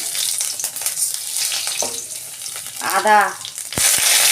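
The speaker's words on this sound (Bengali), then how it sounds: "শুকনো লঙ্কা ফোড়ন দিচ্ছি। পাঁচ ফোড়ন দিচ্ছি।" Dried red chillies and panch phoron spluttering in hot oil for a vegetarian Bengali dish, a close crackling sizzle with stirring scrapes and a couple of sharp clinks near the end.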